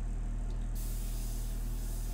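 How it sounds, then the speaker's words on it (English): An airbrush sprays a dark India ink mixture in a steady, close hiss that grows brighter and fuller partway through, with a low hum beneath and no talking. "So I have the dark mixture in this airbrush, and the other one is the medium mixture"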